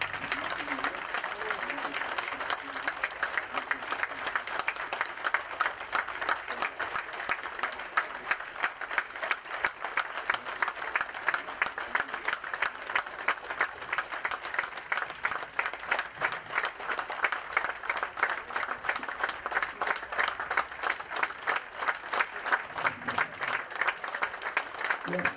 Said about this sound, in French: une grande minute d'applaudissement